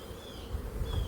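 Honeybees hum steadily around a beehive box, a close, continuous buzzing drone with a faint higher whine drifting in and out.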